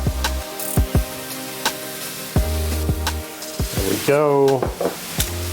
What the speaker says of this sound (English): So the same thing applies here to the ground beef. We want to get this really deep, nicely browned off.